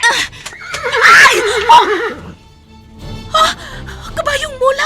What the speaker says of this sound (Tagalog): Ang kabayo ni Prinsipe Numar!